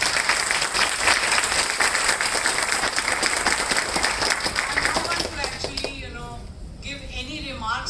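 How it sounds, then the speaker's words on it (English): Audience applause after a set of memorial lectures, dense sustained clapping from a large hall crowd that thins toward the end as a voice begins speaking. "we need to have a big clap for all of them"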